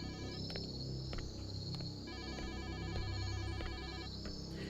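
Crickets chirp in a horror video game set at a motel, a dense, steady, high trilling with regular pulsing repeats over a low ambient hum, no voices.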